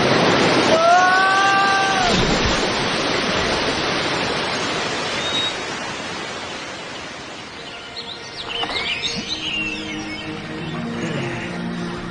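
Steady roar of falling water fills the whole clip, loud and continuous, with a few bird chirps rising above it.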